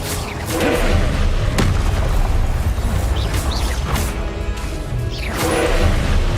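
Fiery Confringo spell blasts in Hogwarts Legacy land as repeated booming bursts over a dense, loud bed of game effects, with two or three heavy impacts spread across the stretch.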